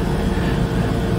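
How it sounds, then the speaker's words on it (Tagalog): A vacuum cleaner runs over a dirty carpet, a loud, steady, close roar with no pauses and no voices. "mag-vacuum po tayo ng carpet na marami na pandumi."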